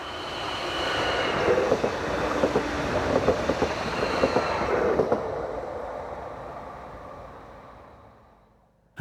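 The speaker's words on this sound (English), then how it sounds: "Using its diesel power pack, bi-mode 755409 heads east, forming the 1347 from Cambridge to Ipswich." Bi-mode passenger train 755409 runs east on diesel power along a rural line, a steady loud rumble with rhythmic wheel clatter that builds, holds, then fades away into quiet.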